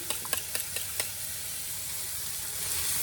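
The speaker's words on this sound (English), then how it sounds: "I'm just going to scramble those up with maybe a teaspoon of milk" Eggs mixed with a little milk sizzling in a hot pan, a few quick taps of a utensil at the start and then a steady soft hiss as they cook.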